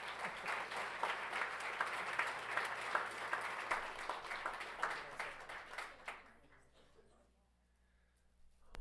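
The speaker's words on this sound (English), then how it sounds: "let's give them a huge round of applause" Audience applause at a school board meeting, dense clapping from a room of attendees that holds steady for about six seconds, then fades out into quiet room tone.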